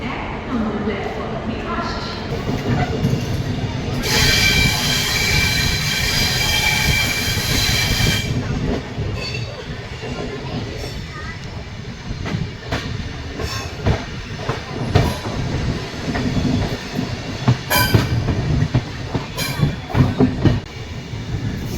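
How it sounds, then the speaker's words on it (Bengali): A Bhubaneswar–Howrah Jan Shatabdi Express rolls slowly into Howrah station with loud, steady wheel rumble, rhythmic clatter over rail joints and a long bright squeal of wheels, while voices carry on around it. "ধীরে ধীরে ট্রেন হাওড়া স্টেশন এন্টার করছে"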